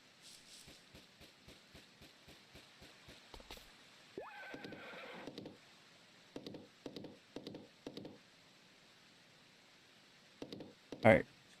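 A horse in the farming video game Story of Seasons gives a loud, rising whinny in the middle, set between a steady run of soft clip-clop hoofbeats, with a sharp burst near the end.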